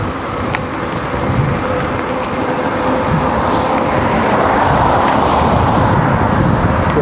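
Road traffic rolls past on a route near Costești, Romania, heading toward Roșiori de Vede, as an e-bike rider hears it: a steady, close broadband roar of passing vehicles that swells slightly toward the end, with no talk.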